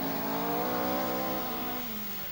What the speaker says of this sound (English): And urging her quattro sport repeatedly to its rev limiter, Michelle Mouton is restored to the fray